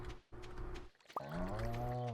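A cow moos in the Stardew Valley farming game: one drawn-out, low, harmonic bellow that swells and holds for about a second, following short game sounds and background music.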